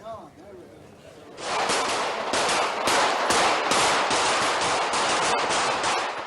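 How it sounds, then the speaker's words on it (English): Rapid bursts of gunfire ring out during a street shootout in Diyarbakir, sharp repeated cracks starting after a quieter moment and continuing loud and dense, with voices in the background. "Moments after that, he was shot dead and a gunfight erupted."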